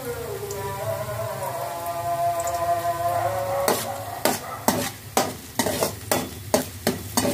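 Sliced onions and slit green chillies fry for a home chicken fry, sizzling steadily while a spoon knocks and scrapes the pan in a regular rhythm of loud close strokes, with no talk.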